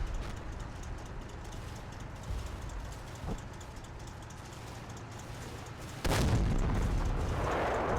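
A Panther tank gun fires in Combat Mission, a sudden sharp boom followed by a louder blast near the end, both over a constant rumbling wartime battlefield background, with no voices present.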